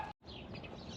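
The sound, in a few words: birds chirping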